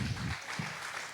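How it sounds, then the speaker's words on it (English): Applause for the judges at a poetry slam regional final in the Hunter Valley, Australia, heard as a short, moderate burst of clapping from a small crowd that fades quickly. "Round of applause for our judges"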